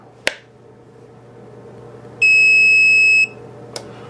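A VEVOR 5-in-1 heat press switching on and giving one clear, sustained electronic beep of about a second, with a sharp click before it and another after, over a low steady hum.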